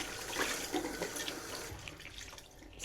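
Tap water runs and splashes into a sink as string beans (sitaw) are washed under it, a steady near rush with shifting splashes, no talk.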